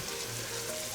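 Garlic sautéing in a pan for green minestrone, a steady, even sizzle and crackle of frying with a faint low hum beneath, close and continuous throughout.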